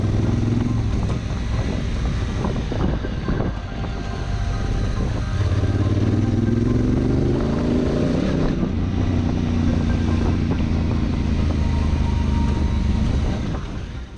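A 2018 Honda Africa Twin Adventure Sports motorcycle engine runs loudly and close by, its low droning note rising and falling in pitch as it revs, with wind noise over it.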